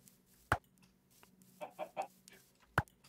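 Chicken clucks from the video game Minecraft, a few soft short clucks in a quick cluster, framed by two sharper thuds, fairly faint over a quiet background.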